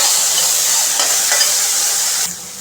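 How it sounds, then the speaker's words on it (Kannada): Onions fry and sizzle in a pan while being stirred during sabudana upma preparation, a steady close hiss with soft scraping strokes throughout, easing off near the end. "ಈಗ ಈರುಳ್ಳಿ ಒಳ್ಳೆ ಫ್ರೈ ಆಯಿತು."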